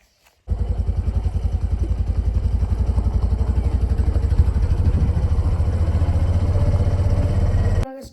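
A geared motorcycle starts and runs with a steady, close, rhythmic engine putter for several seconds on the ride home, then cuts off abruptly at the end.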